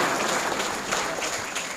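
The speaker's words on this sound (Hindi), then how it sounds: "जब तक वो डायस पर आए, मैं आपसे उम्मीद करता हूं ये तालियां तब तक बंद नहीं होनी चाहिए।" At a mushaira poetry gathering, a crowd gives a dense, loud, continuous round of applause as a poet makes his way to the dais.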